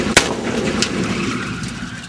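Small shaped-charge explosion from a car bomb disruptor: one sharp, loud bang near the start, followed by a rumbling tail and another abrupt hit at the very end.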